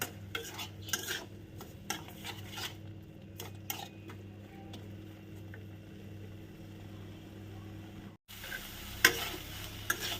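Bottle gourd leaf paste with turmeric and sugar being stirred in a pan over heat, with a soft continuous sizzle and repeated scraping of a spoon or spatula against the pan.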